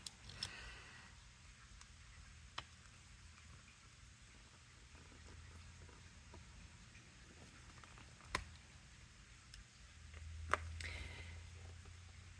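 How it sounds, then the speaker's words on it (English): Light rain falling outside on a cloudy day in Las Vegas, a faint, steady patter with occasional sharper drips and ticks close by. "So we got rain,"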